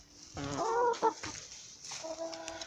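A few Lohmann laying hens cluck and murmur nearby in a coop, with short drawn-out calls separated by brief pauses, fairly quiet.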